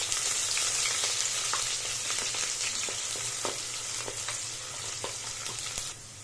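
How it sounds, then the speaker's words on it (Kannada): A medium onion frying in oil toward golden brown for palak vegetable pulav, a steady hissing sizzle with scattered light pops and stirring taps, easing slightly softer near the end, no speech. "ಒಂದು ಮೀಡಿಯಂ ಸೈಜ್ ಈರುಳ್ಳಿನ ಹಾಕೋತಾ ಇದ್ದೀನಿ ಗೋಲ್ಡನ್ ಬ್ರೌನ್ ಬರೋವರೆಗೂ ಫ್ರೈ ಮಾಡ್ಕೊಳ್ಳಿ"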